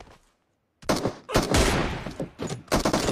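Gunshots ring out in PUBG Mobile: after a brief silence, several loud, close sharp cracks with ringing tails arrive in quick succession, the last ones clustered together.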